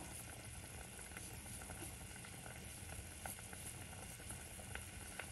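A pot of sotanghon glass-noodle soup with squid and chicken simmers at a gentle boil, giving a faint, continuous bubbling hiss with occasional small pops.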